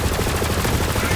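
Rapid gunfire from the video game Borderlands 3 rattles in a dense, loud, continuous burst of overlapping shots.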